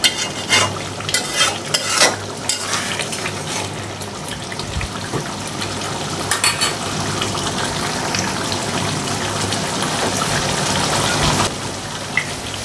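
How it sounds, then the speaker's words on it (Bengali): Liver curry stirred in a pan while oil bubbles and sputters, a steady frying crackle with scraping spoon strokes throughout, close and fairly loud. "এখন হচ্ছে নেড়ে চেড়ে মিশিয়ে দিয়ে কিছুক্ষণ একেবারে ঝোলটা আবারও তেল ফুটা ফুটা হবে"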